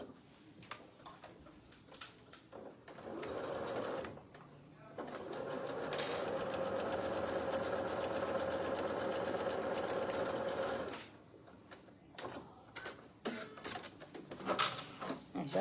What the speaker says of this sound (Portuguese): Vou fazer na máquina.